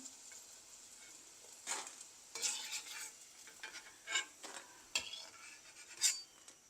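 Eggplant frying in a pan, with soft sizzling under repeated scraping strokes of a utensil being stirred through it, heard up close with no talk.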